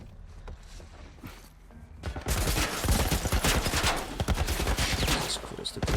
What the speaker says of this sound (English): It's time to use the shotgun a little.